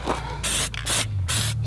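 Three bursts of aerosol spray paint hissing from a can onto a wheel rim, each about a quarter second long with short pauses between, close and fairly loud.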